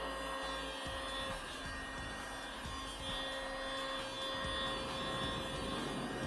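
A heat gun blows steadily over white epoxy resin for an ocean-style pour, a continuous close airy roar with a low hum and faint rubbing scrapes throughout, and no voices.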